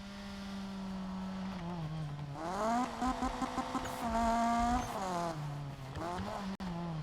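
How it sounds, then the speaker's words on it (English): A car engine in the racing game Need for Speed (2015) drones and rises in pitch as it revs and shifts, loud and close, with a few abrupt gear changes. "Car got louder."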